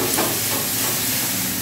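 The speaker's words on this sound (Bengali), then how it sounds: "এবার আমার মশলা ভাজা হয়ে গেছে" Spices fry in a pan with a pinch of sugar added for a Bengali fish egg fritter dish, giving a loud, continuous hiss and sizzle with no speech over it.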